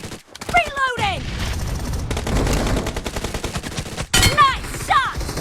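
Skorpion pistol fire rattles in rapid bursts during a video game team deathmatch, loud and close, mixed with other game effects and voices talking.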